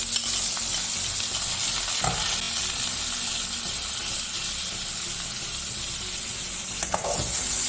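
Dal and dried red chilies roasting together in ghee for paruppu thogayal produce a continuous close-up sizzle, broken by stirring scrapes and a couple of sharp clinks against the pan.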